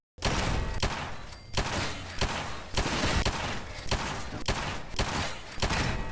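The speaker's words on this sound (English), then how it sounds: "The guns all sound alright," Rapid gunfire bursts and heavy booming shots from Fallout 4 combat, loud and close, arriving in repeated volleys with brief gaps between them, with no voices over it.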